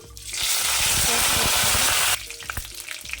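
Spices for tempering hitting four tablespoons of hot oil in a kadai, erupting into a loud, dense crackling sizzle that cuts off abruptly and leaves light spattering and pops.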